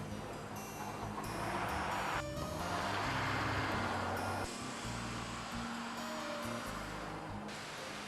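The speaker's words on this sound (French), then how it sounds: "On se surprend alors à jouer constamment du levier, rien que pour les mélopées de l'échappement." A 2000 Mercedes SLK 320 (R170) roadster's exhaust drones steadily from inside the car, with audible breaks where gears change, alongside constant wind and road noise.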